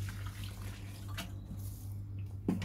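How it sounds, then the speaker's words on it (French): Water poured into a furrow in garden soil before planting ratte potatoes, a soft steady gushing and trickling with a small splash near the end, no voices. "Donc je vais mettre de l'eau dans le sillon."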